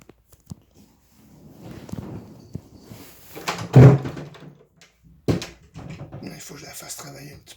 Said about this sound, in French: J'ouvre la porte, mais pas complètement. Puis là, mais il faut qu'elle tire avec sa patte.